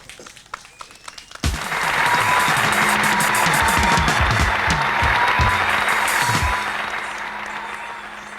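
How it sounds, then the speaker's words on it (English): Audience applause for performers at a Shiva Gana Sri Krishna Leela and Sri Ram Leela show: a few scattered claps swell suddenly into loud, sustained crowd applause that holds steady for several seconds, then slowly tapers. "I think they deserve another round of applause"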